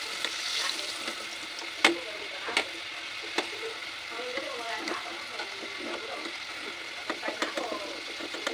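Pork pieces sizzle and crackle steadily while being double fried for crispiness in a sweet and sour pork dish, with occasional stirring clinks over a continuous frying hiss.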